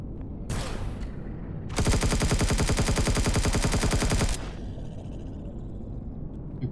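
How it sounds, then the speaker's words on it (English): Gunfire in the survival game Empyrion Galactic Survival: a brief blast, then a sustained, rapid automatic burst lasting over two seconds, loud and close, before settling back into low ambient rumble. "What the heck just shot at me?"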